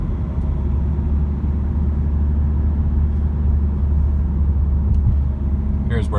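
A Škoda Karoq Style 2.0 TDI 4x4 SUV diesel speeding up, a steady loud low rumble of engine and road noise heard from inside the cabin.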